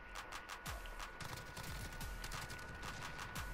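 Rapid gunfire in the Call of Duty: Modern Warfare video game on the Hardhat map, a dense stream of quick repeated shots with sharp reports, fairly faint and continuous throughout.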